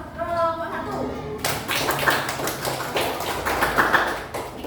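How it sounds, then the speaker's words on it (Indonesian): In a classroom teaching session, a group claps in a quick, patterned rhythm after a brief spoken call, the claps close and fairly loud. "Tepuk tangan kelompok 1."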